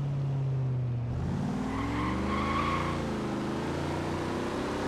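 A 1970 Chevelle SS 454 in Forza Horizon 3 drives along steadily, its V8 engine droning with a sustained low hum that shifts pitch as it slows and picks up again, close and continuous with no talk over it.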